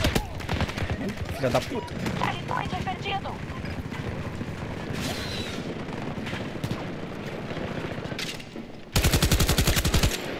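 AK 5C rifle gunfire in Battlefield 2042, long rapid automatic bursts hammering close and loud under game effects, with a player swearing briefly and a final fierce burst near the end.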